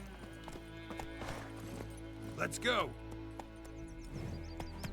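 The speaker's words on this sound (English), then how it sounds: "And actually ride our horse to get there faster." Horse hooves clip-clop in The Witcher 3 as the player rides out, a steady rhythmic trot under game ambience, with a brief whinny midway and a voice speaking over it.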